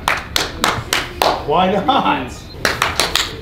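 A crowd of people claps in short bursts of hand claps, loud and close, with a person talking over a stretch in the middle.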